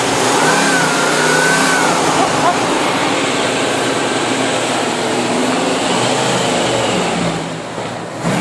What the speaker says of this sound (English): Rev the engine, rev it, rev it.